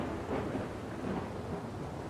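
Thunder rolls through a storm as lightning strikes, a steady broadband rumble with rain-like hiss that holds at even loudness throughout, with no voices.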